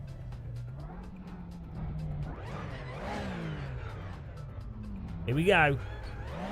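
A racing car engine in the Assetto Corsa racing simulator at the Nürburgring GP track drones and rises in pitch, with a sharp rev near the end, fairly faint beneath someone talking.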